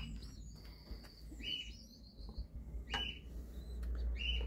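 Orphaned baby pigeons being hand-fed, giving several thin high chirping peeps in short bursts over faint low background rumble, quiet and close, with no talk.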